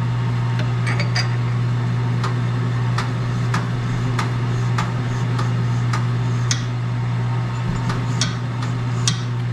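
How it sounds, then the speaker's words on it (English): A Sunnen hone machine wet-laps bearing steel, giving a steady low mechanical hum with irregular light metallic ticks and clinks scattered throughout, close and fairly loud. "So we're going to continue a little bit wet lapping here."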